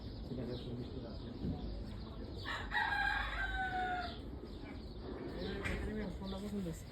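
At a poultry market, chickens cluck and a rooster lets out a loud crow in the middle, over a crowded background of bird noise with people talking nearby.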